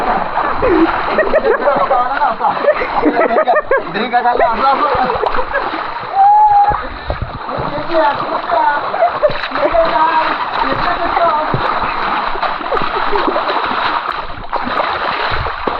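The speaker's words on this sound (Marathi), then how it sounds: "अरे यांच्यावरती आपण पाणी उडू" Children splash and slosh water in an open village swimming pool, with continuous close splashing under excited shouting and chatter.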